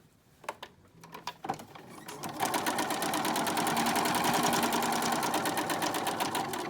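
A sewing machine stitches a fabric face mask, starting with a few isolated clicks and handling taps, then settling into a steady, rapid mechanical whirr that runs close and alone.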